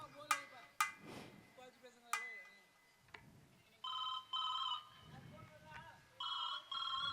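A telephone ringing in bursts of electronic trills, with two repeated ring bursts toward the end, following some sharp knocks and clatter, moderately loud against a quiet background.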